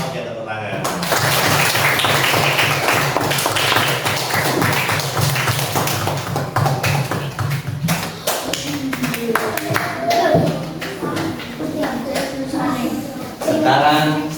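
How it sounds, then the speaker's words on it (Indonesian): A group of teachers in a school workshop claps together, with crisp taps and claps in a lively, somewhat rhythmic pattern and voices mixed in throughout. "Oke, tepuk tangan."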